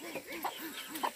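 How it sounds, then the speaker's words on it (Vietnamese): Chickens and chicks at a forest farm plot make soft clucks and a few sharper peeps in a quick irregular rhythm, close by and fairly quiet. "đây toàn gà con đây"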